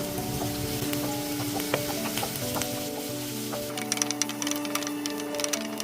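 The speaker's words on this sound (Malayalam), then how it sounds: "എണ്ണ നന്നായി ചൂടായി വരുമ്പം അരിഞ്ഞു വെച്ചിരിക്കുന്ന സവാള ഇട്ട് കൊടുക്കാം" Chopped onion, green chili and curry leaves fry in hot oil for a potato thoran, a loud, close, continuous sizzle with crackling pops that grow denser toward the end.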